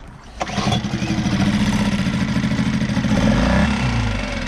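A Yamaha F2.5 outboard motor, started cold with a pull cord, catches and fires into a steady, loud mid-pitched running chug that lasts a few seconds.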